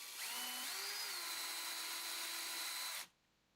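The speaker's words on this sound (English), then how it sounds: "holes are drilled and they're screwed into position" A power drill boring holes in wooden puzzle box parts: a steady high whine close up that rises in pitch as it spins up, holds for about three seconds, then cuts off abruptly.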